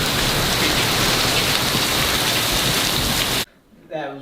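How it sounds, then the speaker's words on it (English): Heavy rain hisses steadily during a thunderstorm, a loud broad wash that cuts off abruptly, followed by a brief quieter moment with a faint voice. "Listen to that thunder."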